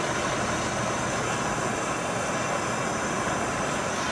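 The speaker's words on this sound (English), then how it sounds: "holding it this way actually gets both of the parts of the scissors in the flame" A torch flame heating a pair of scissors roars in a loud, steady rushing hiss, constant and close throughout, with no speech.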